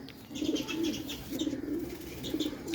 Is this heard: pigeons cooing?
yes